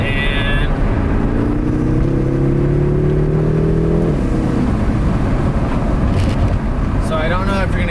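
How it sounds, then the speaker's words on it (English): A BMW M6 twin-turbo engine fitted with BMS intakes pulls hard under acceleration, its steady drone rising in pitch for a few seconds before it gives way to a broad, continuous roar of wind and road noise. "Alright, here's our best chance to hear these turbos,"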